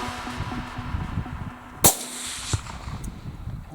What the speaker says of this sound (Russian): Прозвучал выстрел, и пуля точно поразила зверя.